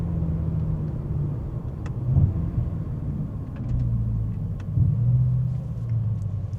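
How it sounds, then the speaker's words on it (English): Smooth Mercedes-AMG engine downshifting from inside the car, a low steady rumble with brief revving swells as the gears drop, near and alone. "It's so smooth. Just downshifting."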